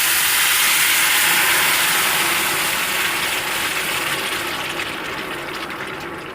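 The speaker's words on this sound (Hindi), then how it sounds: "अब हम इसमें आहिस्ता आहिस्ता करके शीरा डालेंगे।" Hot sugar syrup is poured slowly into roasted semolina for halwa, making a steady, loud hissing sizzle that fills the whole stretch and fades gradually toward the end.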